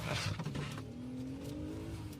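Car speeding away on a street, a faint engine revving and rising in pitch as it accelerates off, with brief scuffling noise at the start.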